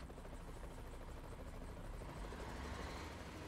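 Helicopter rotor from Euro Truck Simulator 2, a steady droning whir with low thumping that runs unbroken and fairly loud for the whole stretch, with no voices over it.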